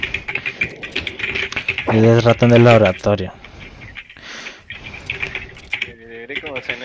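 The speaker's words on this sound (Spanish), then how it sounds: "suena ese teclado sabroso" Rapid computer keyboard typing in a clattering burst, partly overlapping lively speech from nearby voices.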